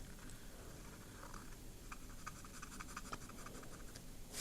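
A fountain pen nib scratching across paper in short, light strokes, faint and close, with tiny ticks and scrapes spaced irregularly.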